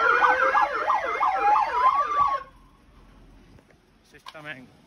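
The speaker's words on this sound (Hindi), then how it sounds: "इतना तगड़ा बज रहा सरन, बहुत तगड़ा" A dual-tone police hooter siren installed on a car wails loudly and close in rapid alternating sweeps for a couple of seconds, then cuts off, leaving quiet background and a brief voice.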